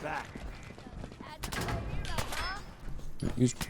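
Turret gunfire in the video game Fallout 4 rattles out in quick bursts, fairly quiet and mixed with other game sounds, with one denser volley in the middle.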